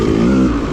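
A Yamaha YZ250 two-stroke dirt bike engine revs hard under full throttle on a muddy woods trail, a loud, close, sustained buzzing roar with a slight dip in pitch over less than a second.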